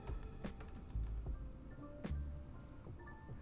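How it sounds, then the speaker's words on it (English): Quick, quiet clicks of a computer keyboard as a word is typed into the Windows 11 settings search bar, a short run of close keystrokes in a hushed room. "from here in the search bar, we're going to go ahead and type updates."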